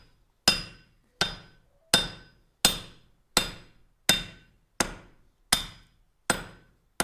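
Ten sharp hammer blows ring out evenly on hot metal at an anvil during blacksmith forging, each strike loud and metallic with a brief decaying ring, spaced about seven-tenths of a second apart, with no talk.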